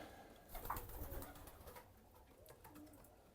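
A male pigeon coos softly, low and throaty, from its nest spot in a quiet setting with faint background noise.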